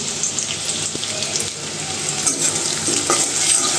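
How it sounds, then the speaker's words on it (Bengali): Potatoes frying in a pan at home, a steady close sizzle with intermittent scraping stir sounds and faint clinks running through the whole stretch. "আলুগুলো আগে ভালো করে একটু ভেজে নেব"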